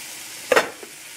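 Pre-cooked meat dropped into a hot pan with cabbage and noodles, giving a short burst of sizzling followed by a smaller crackle, alone without talk.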